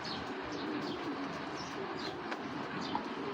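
A racing pigeon coos softly in a few low, repeated murmurs against a steady background hiss, with faint chirps mixed in.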